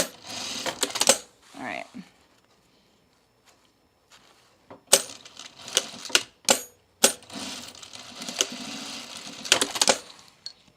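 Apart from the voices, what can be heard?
sewing machine stitching on scrap fabric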